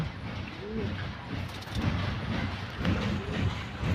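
Soft, low pigeon coos repeat a few times over a steady rumbling background, fairly close but not loud.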